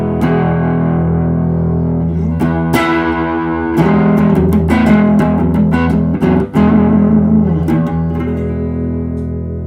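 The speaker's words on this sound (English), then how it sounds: "Then stage two, coming into the Iron Drive, this has a little bit more crunch." An electric guitar played through an Iron Drive overdrive pedal gives a crunchy distorted tone, with strummed chords and picked notes ringing with sustain from a Keeley compressor, played alone without talk.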